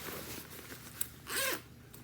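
A zipper on a waterproof cover for a backpacking sleeping bag is pulled in a short, quiet rasping run, with a faint tick and then a louder brief zip stroke near the end.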